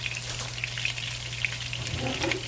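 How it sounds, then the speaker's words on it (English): Basmati rice browning in butter in a skillet, a close, constant crackling sizzle with tiny popping bursts over a low steady hum. "I put it in that pan with some butter."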